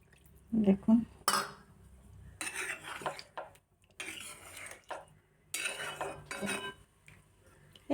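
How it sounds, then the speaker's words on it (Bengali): Curry is tipped from a wok into a cooking pot, giving several bursts of scraping and clattering metal with brief splashy pours between quiet gaps, close and fairly soft. "এটা আমি কড়াই থেকে এবার হাঁড়িতে ঢেলে নেবো বন্ধুরা।"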